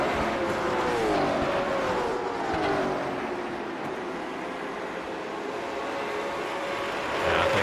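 Race cars in a sim racing game, one passing a lapped car, with sustained engine whine that rises and falls in pitch as the cars run close together, loud and continuous.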